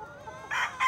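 A hen in a gallera pen gives two short, fairly loud clucking calls in under a second, over quiet background noise.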